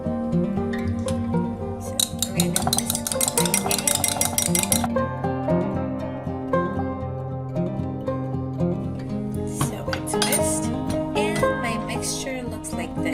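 Leftover beef buna masala is stirred together in a pan, with dense clinking and scraping of utensil against metal, loudest in the first half and returning in bursts near the end.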